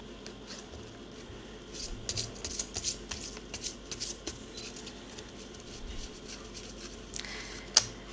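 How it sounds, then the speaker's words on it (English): Tarot cards are lifted from a stack and shuffled, giving soft, close riffling and tapping in irregular bursts with a sharper snap near the end, quiet and without voices. "let's just pick up some cards from the auto reading stack"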